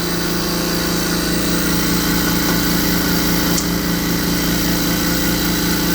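An MEB4 nitrogen generator runs with a loud, constant mechanical drone and steady vibrating hum, unbroken for the whole stretch with no talk.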